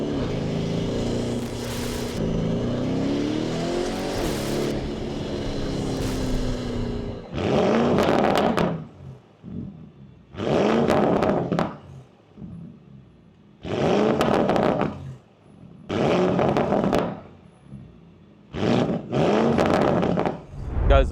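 A Mansory Rolls-Royce Ghost with a swapped engine revs in a series of loud, close bursts, each rising and falling, separated by brief idle pauses after an opening stretch of steady engine running.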